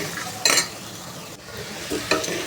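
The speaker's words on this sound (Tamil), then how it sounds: "இப்போ இது நல்லா வதங்கட்டும்" Potatoes sautéing in a pan, a soft continuous sizzle broken by two short bursts of spatula scraping and stirring, close and clear with no voices.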